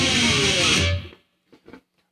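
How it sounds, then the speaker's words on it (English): Distorted electric guitar pick slide, a loud harsh noisy scrape down the strings lasting about a second before cutting off, followed by a couple of faint muted plucks. "This technique is called a pick slide or pick scrape."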